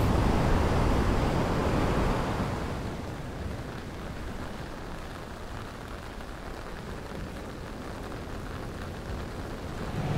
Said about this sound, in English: The next 3 days, a heavy storm swept across East Greenland.